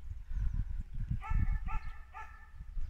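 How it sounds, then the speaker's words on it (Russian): Dogs in a village let out a few barks, some fairly distant, amid rustling and low rumbling background noise, with no speech. "Собачки лают."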